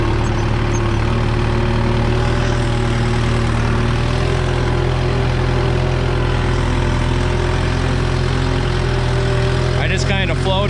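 A tractor engine, a farm machine fitted with big agricultural tires, idles steadily and loudly with a deep low rumble throughout, a brief rattling burst near the end.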